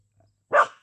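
A single close, loud dog bark, short and sharp, with nothing before it but faint low hum and no other noise around it.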